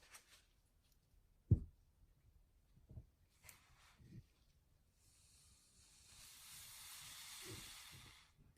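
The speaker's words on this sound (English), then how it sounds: "Hold it upright and spray the lubricant for 2 to 3 seconds." Lubricant sprayed from an aerosol can into an NSK SurgicPro dental handpiece, a steady broadband hiss lasting a few seconds near the end, preceded by a sharp click and some handling knocks.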